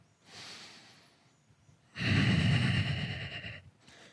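Slow breathing held through a yoga pose: a soft inhale, then a longer, louder exhale through the nose, close and alone with no talking.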